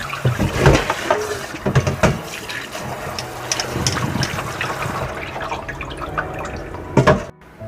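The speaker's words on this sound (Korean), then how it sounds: "요거를 깨끗이 씻어서 건져줘야 되겠죠." Shishito peppers are rinsed clean in water in a kitchen, with splashing, dripping and sloshing bursts close by and a final louder splash before it goes quiet.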